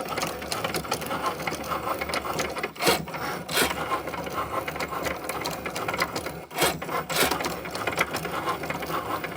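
A Cricut machine cuts a sheet of party foil into small apple shapes, giving a steady mechanical whirring and rubbing hum with brief pauses as the carriage changes direction, close and continuous with no talk.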